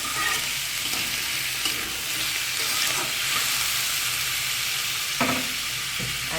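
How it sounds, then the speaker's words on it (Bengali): Pumpkin tipped into a hot pan with lentils for a vegetarian dish, crackling in a steady close-up sizzle with stirring scrapes running throughout and one sharper clack near the end, no voices. "এই যে এবার কুমড়োটা ঢেলে দেবো ভালো করে মিশিয়ে নেবো"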